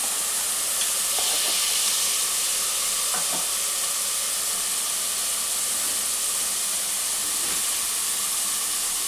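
Whole spices, including cinnamon bark and cardamom, and cashews fry in oil for a Telangana bagara chicken curry, giving a steady close sizzling hiss with a few soft stirring scrapes and no talk.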